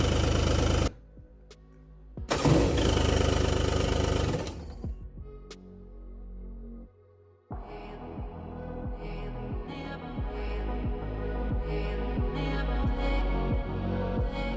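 A 1999 Yamaha jet boat engine during a rebuild cranks with a loud whir, stops, then catches and runs with a steady, throbbing idle that holds close and loud.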